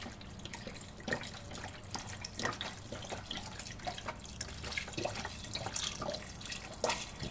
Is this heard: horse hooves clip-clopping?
no